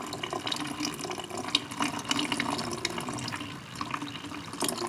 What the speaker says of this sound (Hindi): अब इसमें से हम ये लिक्विड हटा रहे हैं।